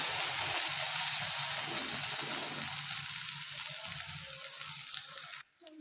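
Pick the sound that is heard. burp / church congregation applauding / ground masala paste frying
ground masala paste frying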